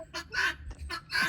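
Chickens cluck nearby in a short burst of several quick, rhythmic calls.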